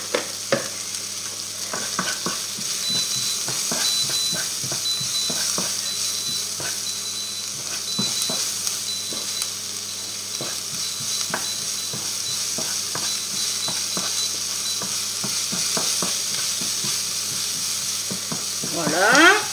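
Garlic and onions sizzle and fry steadily in a pan, with a spoon stirring and scraping in frequent clicks throughout, close and continuous, with no talking.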